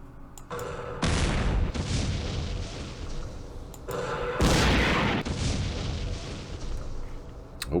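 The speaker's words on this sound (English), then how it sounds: "But we can still fire with these tanks." Tanks firing in the Campaign Series Middle East war game, two heavy booming blasts a few seconds apart, each rolling into a long loud rumbling decay.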